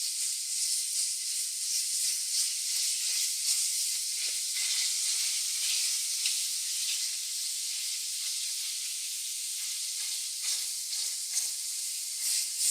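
Pork browning in hot oil in a pan for zhajiangmian noodles, a steady high sizzle and hiss with occasional crackles as it is stirred, close and continuous.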